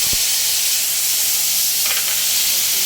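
Ginger, coriander and cumin paste sizzling in hot oil in a pan for a chhana kofta curry, a loud, steady close hiss with a faint stir or clink partway through.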